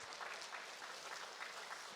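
A church congregation claps together in a steady, dense round of applause honoring the education department, even and sustained throughout with no talking over it.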